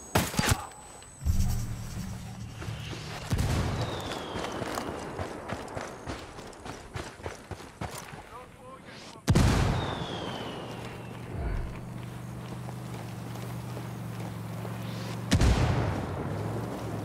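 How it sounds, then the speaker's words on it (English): Mortar fire and explosions in the video game Ghost Recon Wildlands, several heavy booms and impacts spread across the stretch, with rumbling low tails and clattering mechanical noise in between. "Mortars incoming. Get to cover."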